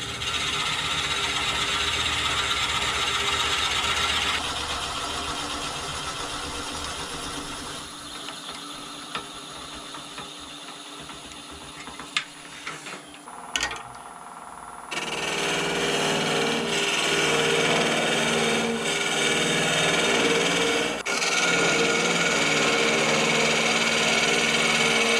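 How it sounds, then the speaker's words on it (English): A continuous, loud mechanical grinding and whirring of a tool cutting into wood, shifting in tone partway through and carrying on steadily without speech. "go down in there with a drill bit, and then I can just hollow out the inside"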